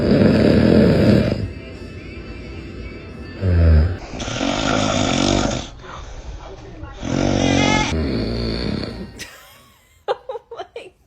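An adult man snores loudly in a room with a newborn baby, giving long rasping snores with pauses between them. Other sounds and voices mix in, and a few short, sharp noises come at the end.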